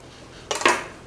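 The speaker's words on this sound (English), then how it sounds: "An onion, which we can cut the bolster end off and the top end off, cut it in half," A knife slices an onion in half on a cutting board, one brief crisp cut ending in a firm knock against the board, close and clear.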